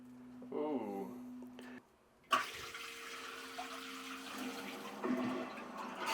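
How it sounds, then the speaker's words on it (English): A smart toilet flushes with a sudden rush of water that settles into a steady running hiss as the bowl refills and the lid closes, preceded by a brief tonal hum from the unit. "and it's going to flush and close the lid."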